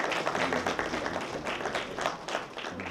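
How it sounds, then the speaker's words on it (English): A round of applause from a university lecture audience at ASU for a guest speaker: a moderately loud, uneven wash of many hands clapping, with slight surges, heard on its own. "or Mr. Williams, another round of applause?"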